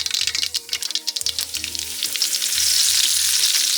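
Mustard seeds and curry leaves crackle and sizzle in hot tempering oil for goat boti gravy in a village kitchen, sharp popping bursts at first that settle into a loud, continuous hiss close by.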